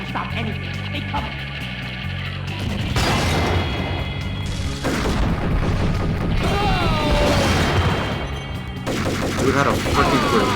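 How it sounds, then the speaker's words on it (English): Heavy blasts and bursts of gunfire in the Max Payne video game fire from an enemy's grenade launcher, with loud booms and crashes stacked over a steady music bed and game sounds. "Dude had a freaking grenade launcher."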